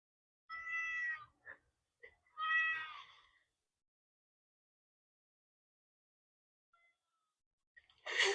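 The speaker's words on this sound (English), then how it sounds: "I think this might be the cat." A domestic cat meows twice in clear, drawn-out calls near the start, followed by a short chirp between them, then a long quiet stretch before another brief meow-like sound at the end.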